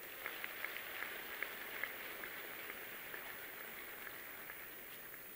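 Audience applause at the Querencia 2018 event for the technical and non-technical staff, a steady, dense patter of many hands clapping at a distance, fairly faint and even throughout with a few sharper claps poking out.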